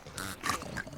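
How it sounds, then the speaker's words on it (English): Pigs grunt and oink in a cartoon farm setting, a short burst of a few nasal squeals and snorts, close and fairly quiet, with no other sound. "Mudbud tries to avoid going into mud withdrawals by checking out the pigs."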